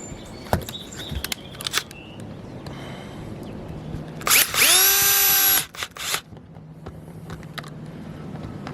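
A power drill drives screws into a sewer vent on an RV roof, with short bursts early on and one loud sustained whirring run that winds up and cuts off mid-clip, then quiet outdoor background.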